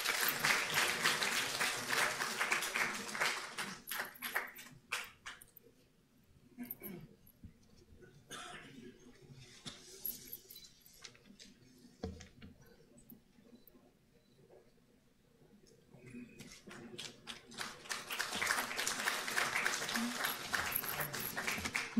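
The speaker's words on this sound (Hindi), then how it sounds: "जोरदार तालियां।" Applause at an MSME Day ceremony for award-winning small businesses: a crowd claps loudly at first, fades to a quieter stretch with faint scattered sounds, then swells back into full, dense clapping.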